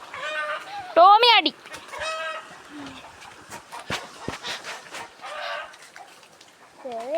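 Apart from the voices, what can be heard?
chickens clucking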